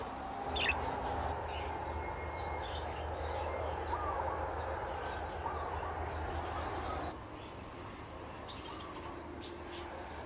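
A young nestling bird, not yet fully feathered, peeps from its nest in a garden with a few thin, high chirps near the start over a steady outdoor background hum.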